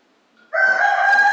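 A rooster crows once, loud and close, the call starting abruptly after a brief quiet lead-in and holding steady to the end.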